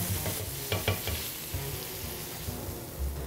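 Chicken livers frying in a pan right after a cognac flambé, a close continuous sizzle with soft stirring scrapes and small pops throughout.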